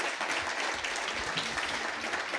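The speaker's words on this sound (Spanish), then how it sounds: "Un aplauso." Steady applause fills the room after a talk at an industrial policy conference, a dense, even wash of clapping from the audience sustained for a couple of seconds.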